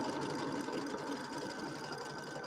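An embroidery sewing machine stitches a grid on stabilizer with a steady, fast, close-up mechanical whir and needle chatter that runs unbroken throughout.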